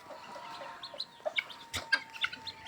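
A turkey clucks and chirps in short, irregular calls close by, over a quiet background hum.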